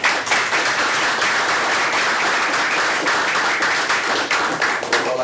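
A board of education meeting audience applauding the school superintendent, a loud, dense, sustained round of clapping filling the room with no speech over it.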